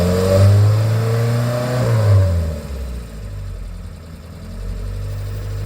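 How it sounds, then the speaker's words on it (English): Rally car engine on a rally school track, loud and close, revving up and accelerating through rising gear tones for the first two seconds, then easing to a steadier lower drone, with no talk. "I'm not putting any music, just so you can hear the car properly"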